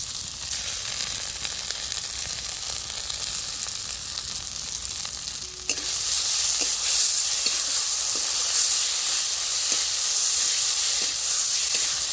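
Poppy seed paste hits hot fried spices in a pan and sets off a loud, steady sizzle that jumps up when it is added, with light stirring taps underneath.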